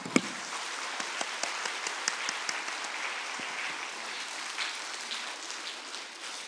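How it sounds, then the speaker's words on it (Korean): A church congregation at a New Year revival meeting claps together in a steady, dense stream of applause that carries on throughout, loud and close, with no talk over it. "자, 박수 한번 준비하고 박수 한번 쳐볼게요."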